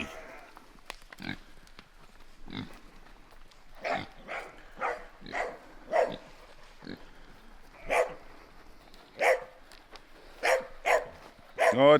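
Dog barking at farm pigs, a series of scattered sharp barks of varying loudness mixed with grunting animal sounds, with people talking intermittently.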